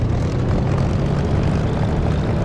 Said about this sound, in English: let's throttle up and make our way to runway.